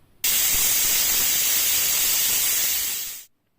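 A stovetop pressure cooker holding raw mangoes and water vents steam in one loud, steady hiss lasting about three seconds before cutting off abruptly.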